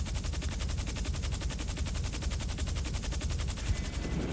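Rapid automatic gunfire in the video game GTA Online, a fast, evenly spaced stream of loud shots running without a break, close and dense, with no talking over it.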